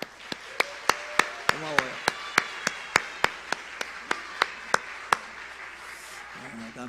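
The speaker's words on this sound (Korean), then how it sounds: "오늘 크게 읽은 교회학교 어린이들 위해서 박수 한번 해주세요" A church congregation at a Sunday service claps for the Sunday school children, sharp claps struck together in an even, steady rhythm, about sixteen in all, with a brief voice speaking partway through and again at the end.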